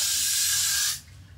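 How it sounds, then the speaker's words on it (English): Hair spray bursts from a bottle onto a wig in one continuous close, loud hiss for about a second before cutting off to quiet room tone. "Don't spray this directly on your wig"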